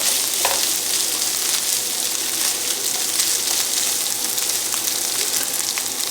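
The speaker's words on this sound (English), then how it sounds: "Onions are nice and sauteed in there now. Garlic's nice and sauteed and softened up." Softened onions and garlic sauté in a pan just above medium heat, producing a constant, fairly loud hiss of frying that stays even from start to finish with a few small crackles.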